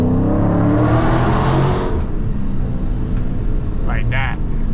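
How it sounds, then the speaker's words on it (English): A Dodge SRT Scat Pack's exhaust swells in a loud, rising rev as the car accelerates, then settles to a lower rumble, with voices talking inside the cabin. "You can hear the exhaust."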